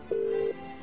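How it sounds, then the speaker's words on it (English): A single steady telephone tone sounds for about half a second as a number is dialed to a hospital, clear over faint background hiss. "let's give this hospital a call and see if we can get Kate Middleton or maybe even Prince Wills on the phone tonight. So the number's going in."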